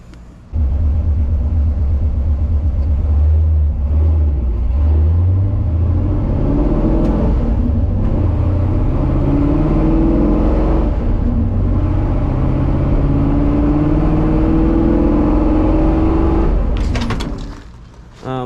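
An AMC Javelin AMX rumbles loudly close by as it drives, its engine revving and rising repeatedly over a deep, continuous low growl before cutting off near the end.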